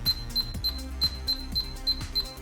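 A string of short electronic beeps, roughly eight in quick even succession, with faint clicks of touchscreen keys being pressed on a Philips Easy Key Alpha-BT digital door lock.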